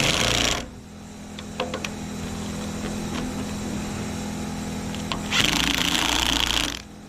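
An impact gun with a worn drive end spins a socket to fasten plough points, loud rattling hammering bursts at the start and end with a quieter mechanical hum and a few metallic clinks between.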